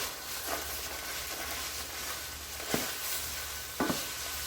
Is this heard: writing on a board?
no